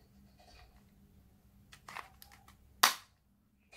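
A manual P85 MK11 jelly pistol fires a single sharp crack after some quiet clicks and handling noises, followed by near silence.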